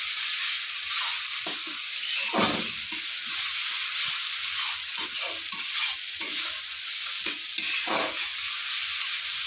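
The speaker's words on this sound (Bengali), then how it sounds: "ভালো করে একটু নেড়ে চেড়ে কষিয়ে নেব" Ginger and garlic fry in a hot pan with ground cumin, turmeric and Kashmiri chili powder for a spicy egg and potato curry. Loud, continuous sizzling runs throughout, broken by repeated close scrapes and thumps of stirring.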